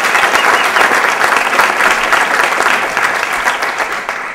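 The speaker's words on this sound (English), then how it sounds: "Big round of applause for People's Bank for helping" Loud, dense applause fills the room at the Amherst Area Chamber of Commerce awards dinner as the audience claps for People's Bank, sustained throughout and easing slightly toward the end.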